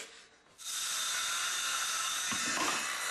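A high-pitched power drill whirs up and runs steadily for a few seconds, close and loud, with slight changes in pitch near the end.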